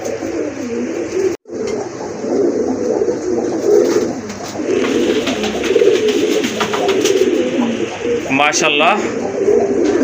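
Pigeons coo steadily at a market stall selling paired pigeons, including sky-blue Rajgolla birds, their soft repeated calls rising above a crowded murmur; someone talks over them near the end.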